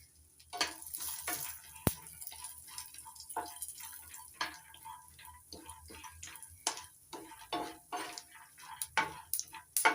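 Curry leaves frying in a pan over a low gas flame while coconut chutney is prepared, giving soft crackles and sporadic sharp ticks and pops, steady and close, with no talk.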